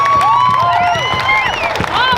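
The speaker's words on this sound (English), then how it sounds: "give yourselves a round of applause for remaining peaceful" Crowd at a Derek Sloan outdoor gathering in Barrie, Ontario, applauding and cheering, with dense loud clapping under whoops and shouted voices.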